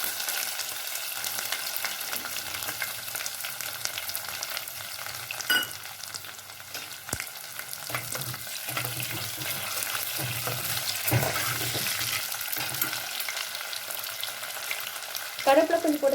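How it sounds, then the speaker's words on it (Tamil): Onions frying in hot oil in a pan with mustard seeds, urad dal, cinnamon and cloves, a steady close sizzle with occasional stirring scrapes and a few louder crackles near the end. "வெங்காயம் போட்டுக்கலாங்க."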